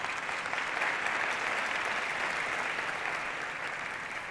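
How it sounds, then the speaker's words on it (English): An audience at a maternal and infant health summit in the Washington Convention Center applauds members of Congress, a dense, steady wash of many hands clapping together, moderately loud and sustained throughout without any voices. "Please give them a big round of applause."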